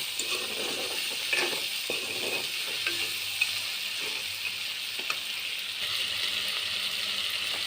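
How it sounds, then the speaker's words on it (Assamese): Pieces of crab fry in a pan with a steady, close sizzle and crackle, broken by occasional soft scrapes and taps as they are stirred, with no talk over it. "কেঁকুৰাখিনি দিয়া হৈ গ'ল। দি এনেদৰে 5 মিনিটমান লৰাই থকা হ'ব।"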